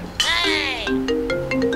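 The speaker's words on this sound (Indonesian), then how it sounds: "Eh, ada telepon." A phone ringtone for an incoming call sounds as a bright melodic tone with rising and sliding notes, followed by several short electronic beeps at close range.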